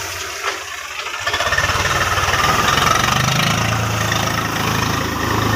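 A tractor engine running in a field while it is driven round and round over heaped pea plants to thresh them, starting up after a quiet moment and then chugging steadily and loud with a rough, knocking idle.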